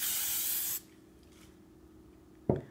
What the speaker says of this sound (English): all right, spray, spray